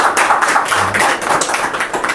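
Audience clapping at a training session, a fairly close burst of individual hand claps in an uneven rhythm, loud and continuous for about two seconds.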